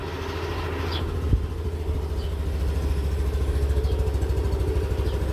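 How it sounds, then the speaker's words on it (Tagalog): A motorcycle engine idles steadily up close after an oil change, a low rhythmic chugging that rises slightly in intensity partway through, with a brief click near the start. "Ganyan ang tunog ng makina niya sa bago nating oil."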